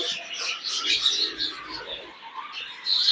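Show jumbo budgerigar chicks in a nest box give a steady stream of high, thin chirps and squeaks at close range, continuous with small swells in loudness and no talking.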